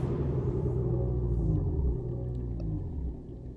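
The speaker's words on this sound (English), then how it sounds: "I hear the thunder." Deep rolling thunder from a weather mod in the underwater game Subnautica, a loud low rumble that swells and then slowly fades across a few seconds, with no voices over it.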